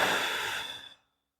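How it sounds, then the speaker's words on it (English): A single long exhale during an abdominal waist-trimming exercise, a breathy airy rush close to the microphone that fades out after about a second into silence. "Breathe out."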